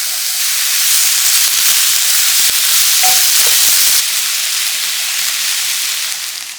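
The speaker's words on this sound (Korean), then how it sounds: "그 팬 그대로 버섯과 양파를 넣고 볶아주세요" Mushrooms and onions stir-frying in a pan after Spam was cooked in it, a loud, steady hissing sizzle with a few faint utensil taps, easing off slightly at the end.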